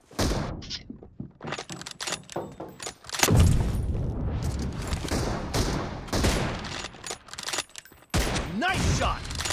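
Gunfire in the mobile video game PUBG Mobile comes in dense bursts of rapid shots and impacts, loud and close, with excited voices talking over the action.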